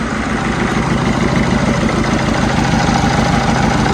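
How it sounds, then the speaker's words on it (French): A Peugeot 307 petrol engine that starts badly, idling unevenly with a shaking, unstable running from one weak cylinder; a loud, continuous, close low rumble with no talking. "On va démarrer le moteur."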